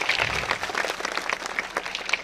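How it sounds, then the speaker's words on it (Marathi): Audience applause welcoming YouTube artists at an Adivasi community kul dev gathering in Dahanu, a steady wash of many hands clapping throughout, moderately loud with no speech over it. "सर्वांनी जोरदार टाळ्याच्या गजरात स्वागत करायचं आहे।"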